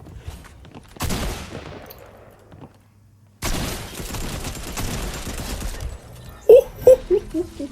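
Gunfire breaks out in two loud bursts, a rapid rattling volley followed by a longer stretch of sustained shots, with quiet gaps between and a few sharp isolated cracks near the end.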